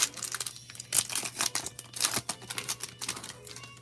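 A Pokemon card slides into a plastic sleeve with quiet, close crinkling and quick rustling ticks in an uneven run. No one speaks.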